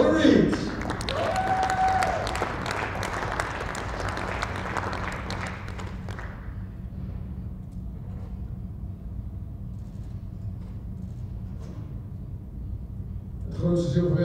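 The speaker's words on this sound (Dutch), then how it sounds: "U geweldig applaus." Applause from an audience after a wheelchair tennis world final, dense clapping for the first six seconds that thins to a low murmur with scattered claps, a voice briefly heard at the start and end.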